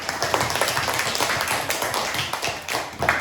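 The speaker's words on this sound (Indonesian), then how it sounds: "Silakan tepuk tangan untuk kelompok 3." Classroom applause for group 3 rings out as a burst of scattered hand claps from a group of schoolchildren, close and continuous throughout.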